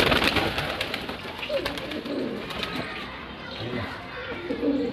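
Pigeons coo softly in low, throaty bursts amid flapping and a busy flock, with someone talking over them.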